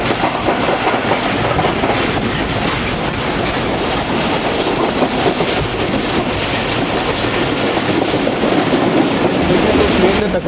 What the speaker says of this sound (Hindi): काफ़ी अच्छी स्पीड में स्किप किया ट्रेन ने बनोगल को।